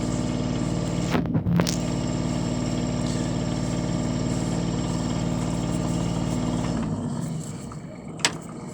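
A diesel boat engine idles with a steady low rumble and drone for about seven seconds, then shuts off, leaving quiet with a brief click.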